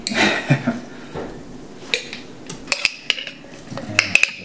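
A metal spoon scrapes and clinks inside a container while scooping coconut butter for a healthy dessert, with scattered sharp taps and scraping strokes close by and no talking.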